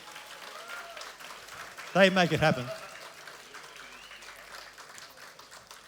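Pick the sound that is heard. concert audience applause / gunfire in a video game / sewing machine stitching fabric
concert audience applause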